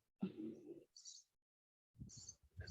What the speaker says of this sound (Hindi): ये जो चिड़िया की आवाज आ रही है